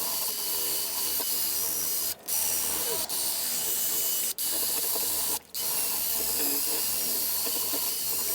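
Satin black aerosol paint is sprayed onto car suspension and brake parts of an EG Honda Civic hatchback in steady hissing bursts broken by brief pauses, loud and close throughout.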